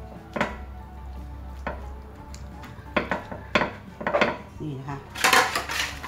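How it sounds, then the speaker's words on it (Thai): Raw chicken pieces go into the bottom of a cooking pot for Isan-style coke-braised chicken, making scattered clunks and metallic clatters with brief bits of a voice. "ใส่ไก่ลงไปนะคะก้นหม้อนะคะก็ใส่ไก่ลงไปก่อนนะคะ"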